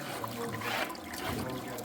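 A small water pump runs steadily while water trickles and dribbles close by in a soft, continuous wash with faint gurgles.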